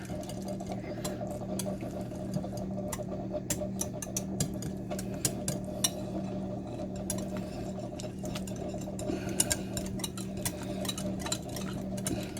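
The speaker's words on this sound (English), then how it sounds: "And then we got to give this all a good whisk." A whisk ticking quickly and steadily against a bowl while mixing keto pumpkin pie filling with vanilla extract, a soft continuous clatter over a low hum, with no talking.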